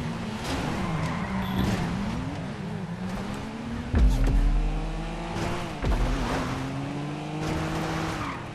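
Cars in GTA Online spin donuts and bump each other, with engines revving and wavering in pitch, tires squealing and skidding, and a couple of heavy low thuds from collisions, with no voices heard.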